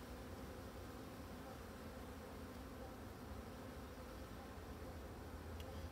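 A disturbed hybrid honeybee colony buzzes loudly and steadily throughout, a dense close-up hum of many agitated bees around an opened hive with frames.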